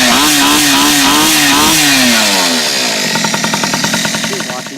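A small pocket bike engine running with its carburetor fuel drained, a loud, close buzzing revving that rises and falls, then settles into a rapid, uneven putter.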